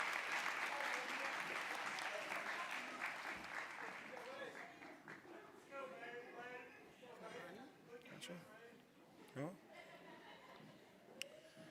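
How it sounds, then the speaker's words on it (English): Audience applause fills a graduation ceremony as a group of graduates exits the stage, loud and dense at first, then thinning into scattered claps with a few voices and cheers over a long stretch. "Let's give this group a round of applause."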